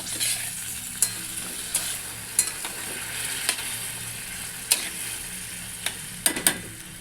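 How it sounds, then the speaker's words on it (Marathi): A gas-roasted bottle gourd curry is stirred in a pan, with a soft steady sizzle and scattered sharp scrapes and clicks of the spoon, close and alone. "चांगला हलवून घेऊया"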